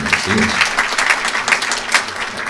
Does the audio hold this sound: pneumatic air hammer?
no